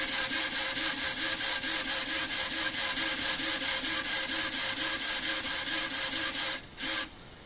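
A Savox 1258 and a JX RC servo motor whir side by side, giving a steady buzzing drone with a regular pulsing rhythm that runs continuously before cutting out near the end.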